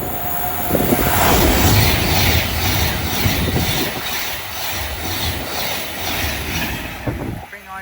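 Train pulls into Watford Junction station on the West Coast Main Line, a loud rumbling roar with rhythmic wheel clatter, heard up close, fading slightly toward the end.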